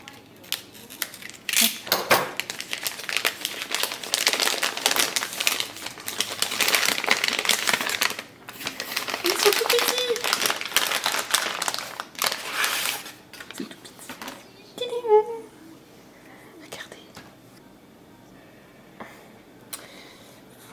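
Utility knife slicing open a tightly wrapped package of synthetic imitation-sable Raphaël paint brushes, with a rapid crackle of plastic and cardboard rustling and scraping up close, then softer handling noises and a few faint clicks.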